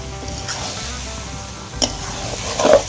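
Jackfruit and potato being stirred and fried with ground whole coriander, cumin and dried red chilli paste, a steady soft sizzle in the pan with a few scraping stir noises near the end.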